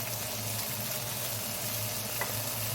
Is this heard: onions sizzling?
yes